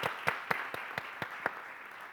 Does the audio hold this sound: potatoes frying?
no